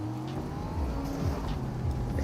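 A car driving in the video game Fortnite, its engine humming and shifting pitch as it accelerates and turns, steady and fairly close with no talk over it.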